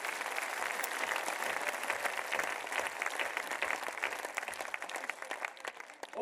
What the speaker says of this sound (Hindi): तो एक बार दोनों हाथ उठा करके तालियां।